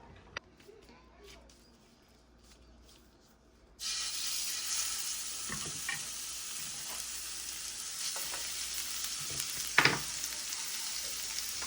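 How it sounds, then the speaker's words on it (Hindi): Minced beef smashed burger patty hits a greased hot pan, starting a loud, steady close sizzle partway through after quieter handling sounds, with a brief louder scrape near the end. "फिर इसके ऊपर कीमा रख के उसे स्मैश कर देंगे स्मैशर से, तो कबाब बन जाएगा"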